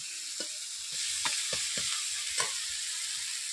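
Spice paste being stir-fried with fish heads, a Bengali fish-head recipe, heard as a steady close sizzle with several distinct scraping stirs against the pan and no talking.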